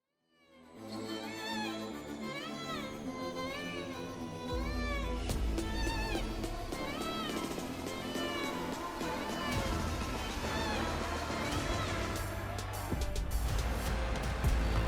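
A cat meows repeatedly in a rising and falling pattern over a loud, steady low-frequency bed, with the meows clear and near.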